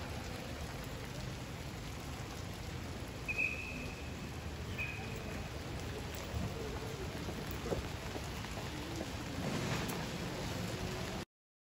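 Steady rain patters on a Paris street, a soft continuous hiss of drops on pavement with occasional louder splashes, no voices.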